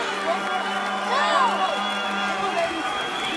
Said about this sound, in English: This Atlanta crowd has gotten loud in the factory